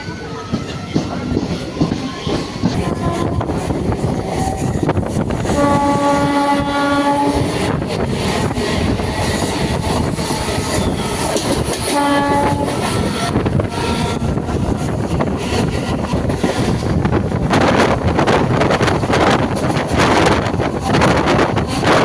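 A local EMU electric train running from Sullurupeta to Chennai Central rumbles and clatters past at speed, sounding two long horn blasts, with heavy wind buffeting the microphone throughout.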